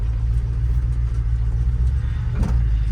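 A Chevrolet Blazer engine rumbles low and steady while the truck is driven and turned around in a downhill yard. There is a brief mid-range knock or bump near the end.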